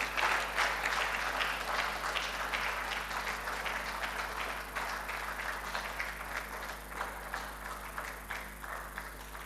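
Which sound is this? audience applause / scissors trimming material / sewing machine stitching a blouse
audience applause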